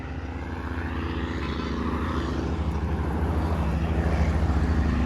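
A clean truck climbs the Winston Jones Highway in Jamaica, its engine a deep, continuous drone that swells slightly louder as it labours uphill, with no talking.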